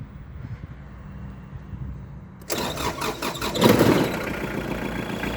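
A Kubota GT3 four-cylinder tractor diesel engine cranks and fires up abruptly, then settles into a loud, rattling idle with a brief surge, heard up close.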